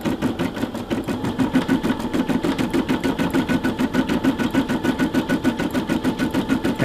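A Brother SE600 embroidery machine stitches in a steady, rapid mechanical rhythm, its needle strokes close and continuous at an even pace throughout, with no voices.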